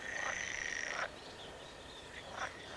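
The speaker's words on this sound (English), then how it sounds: "they have a very distinctive call, and they croak quite loudly" A frog croaks from a pool in Breckland, giving a loud, sustained trilling call nearby that cuts off abruptly, followed by a few short fainter calls.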